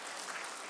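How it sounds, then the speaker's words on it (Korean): A church congregation claps to welcome back a returning member at a Sunday service, a short burst of dense, steady applause from many hands filling the room. "우리 박수로 한번 환영하시겠습니다"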